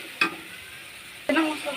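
Spices sizzling and stirred in a pan for a chicken curry, two scraping strokes spaced about a second apart over a steady close frying hiss.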